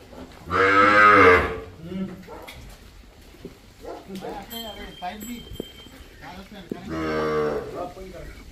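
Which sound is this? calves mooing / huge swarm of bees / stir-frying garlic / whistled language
calves mooing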